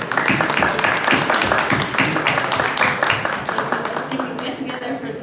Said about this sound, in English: A round of applause for our esteemed panel.